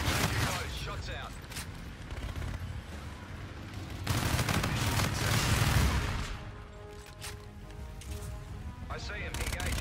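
An aircraft gun run in a shooter video game pours out sustained, rumbling fire that swells and fades over several seconds, mixed with radio voices talking over the barrage.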